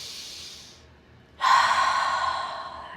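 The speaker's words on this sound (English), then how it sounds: "I want you to take a deep breath" A single deep breath, a quiet intake followed by a louder, long exhale close to the microphone, with no talking.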